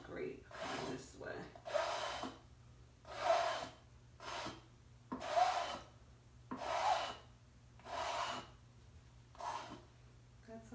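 Paint is scraped off a canvas with repeated rasping strokes, about eight rhythmic scrapes of roughly a second each, close and moderately loud, with faint breathing between them.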